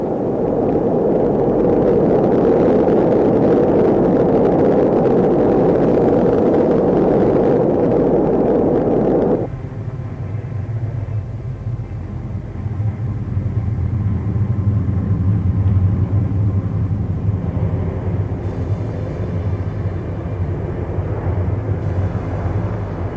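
An Atlas Centaur rocket lifts off with a loud, dense roaring rumble that fills the first stretch, then drops to a lower, steadier distant rumble as it climbs away.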